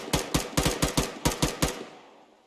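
Close, sharp bursts of gunfire during a simulation training exercise, nine rapid cracks in an uneven rhythm, some doubled, followed by a fading tail and no talking.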